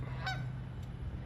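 Canada geese honking outdoors at a winter park pond in Canada where mallard ducks also gather, a single short, fairly clear honk over steady low background rumble, with a fainter call following.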